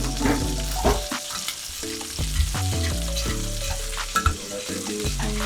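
Thai chili sauce for lamb chops heating in a pan while being mixed, with a bubbling sizzle, utensil knocks against the pan, and a low droning background tone running underneath.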